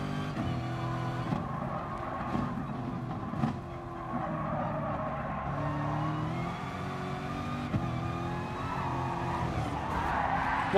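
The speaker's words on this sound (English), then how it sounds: "I think the other car crashed in front of Will, and it stopped Will dead." Cars in the GT Sport racing game skid and squeal as one crashes ahead, with screeching tyres and revving engines layered over a continuous race drone.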